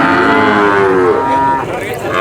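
A cow moos loudly and close at the Purwantoro cattle market in Wonogiri, Central Java, one long drawn-out low call with a falling pitch, followed by a shorter second call, with market noise underneath.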